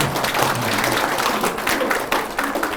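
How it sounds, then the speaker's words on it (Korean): Applause from an audience at a press conference in a meeting hall, steady clapping lasting a few seconds with some crowd noise mixed in. "박수 한번 보내주세요"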